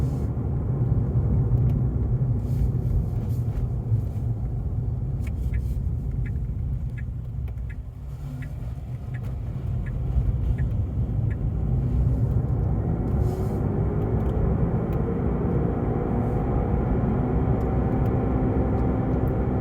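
Steady, loud low-frequency roar of tires on the road heard from inside a moving Tesla Model 3 on the same tires as the previous summer, a continuous droning rumble with no voices.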